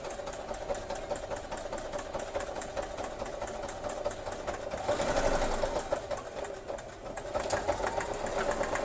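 A sewing machine runs a straight stitch down the side of the fabric with a steady, fast, close mechanical hum and rapid needle clatter that swells briefly midway, and nobody speaks.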